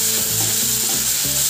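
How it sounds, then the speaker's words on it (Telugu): Ginger paste and turmeric sizzle steadily in hot oil while being stirred in a pan, a loud continuous frying hiss with rhythmic scraping strokes throughout. "ఇలా ఫ్రై అయిన తర్వాత అల్లం పేస్టు, అట్లాగే పసుపు ఇవైతే వేగనివ్వాలి."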